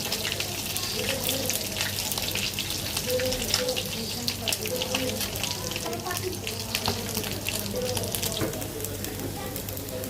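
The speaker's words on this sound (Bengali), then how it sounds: "সবার আগে রুই মাছটা ভেজে নিব" Rohu fish sizzles steadily in hot oil, a constant crackling hiss with occasional sharper pops, close by.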